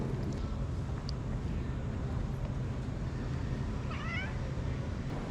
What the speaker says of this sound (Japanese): 教会の目の前にはねまたちっちゃな猫ちゃんもいます